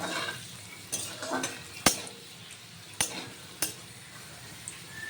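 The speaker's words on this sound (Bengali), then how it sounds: "একটু নুন হলুদ দিয়ে আলুগুলোকে লাল লাল করে ভেজে তুলে নেব।" Potatoes with salt and turmeric sizzle in a pan as they brown while a spatula scrapes through them, with a few sharp metallic clinks at intervals.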